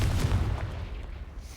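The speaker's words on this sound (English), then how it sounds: "Confringo." A Confringo fire spell is cast in a Harry Potter video game, giving a loud, close, booming blast with a heavy low rumble that decays over a second and a half, with no talking.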